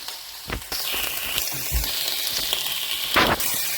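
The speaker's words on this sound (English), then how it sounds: "So we got the onions and mushrooms cooking back there." Onions and mushrooms frying in a pan for a one-pot beef mince stroganoff pasta, a steady close sizzle with a few louder crackles and spits, no talking.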